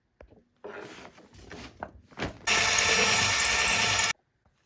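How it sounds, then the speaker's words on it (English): A power drill bores into dresser wood to enlarge a hole, a loud continuous whirring burst of about two seconds after scattered handling knocks and rustles. "I need to take my drill and make the hole bigger going up"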